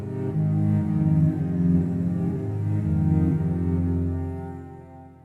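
Pathfinder Cello plugin preset played with untrimmed path ends, a sustained, layered bowed-cello tone with shifting low notes and a slightly messy, continuous texture, heard alone without talk.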